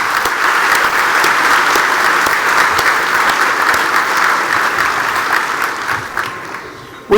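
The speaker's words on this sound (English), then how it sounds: "Let's give them a round of applause to show our appreciation." An audience at a gala awards dinner gives sustained, loud applause, a dense wash of many hands clapping steadily for about seven seconds before it fades out abruptly.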